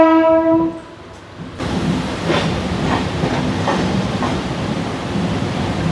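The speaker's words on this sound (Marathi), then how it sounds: "आता आपण CSMT रेल्वे स्टेशनच्या प्लॅटफॉर्म नंबर 2वरून पनवेलकडे रवाना होतो आहे" A Mumbai harbour line local pulls out of platform 2 at CSMT toward Panvel: a sustained horn blast opens, then the train rolls off with a steady rumble and rhythmic wheel clacks, close and loud.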